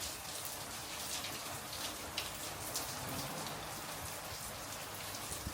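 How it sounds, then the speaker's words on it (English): Heavy rain pours down in a dense, unbroken hiss, with scattered drops spattering on surfaces, steady and fairly faint in the distance. "it just randomly decided to pour down the rain."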